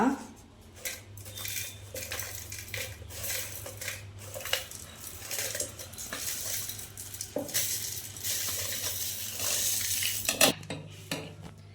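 Spices frying in a pan for Mangalore-style chicken puli munchi, with a utensil repeatedly scraping and clanking against the metal over a soft sizzle, close and fairly quiet throughout.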